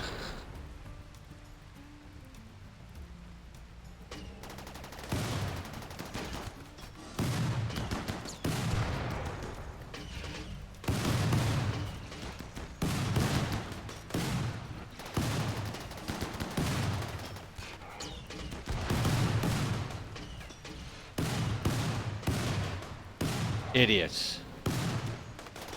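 Gunfire from a RimWorld colony battle: dense bursts of rapid shots and volleys repeat over about twenty seconds, loud and continuous, with a brief spoken word over the fighting.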